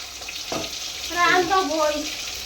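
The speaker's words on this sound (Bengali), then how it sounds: "এবার মাছের মাথাগুলোকেও ভেজে নেবো" Rohu fish heads frying in a pan, a steady close sizzle with bubbling crackle that swells after the first second, with brief bits of speech nearby.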